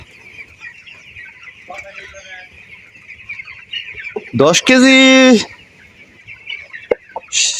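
A broiler chicken squawks loudly once, a harsh stacked cry lasting about a second, amid faint background clucking and someone talking nearby.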